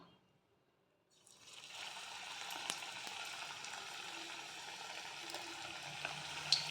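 Coriander leaf pakora fritters hit hot oil and fry with a steady, close, bright sizzle that starts suddenly after a quiet moment and holds evenly, with faint crackles and pops throughout.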